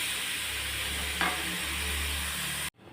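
Fish eggs sautéing in a pan over low flame make a constant soft hiss and sizzle with one brief stir scrape midway, before the sound cuts off abruptly near the end.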